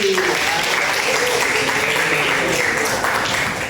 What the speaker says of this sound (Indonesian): Beri aplaus untuk Dinda dan Azri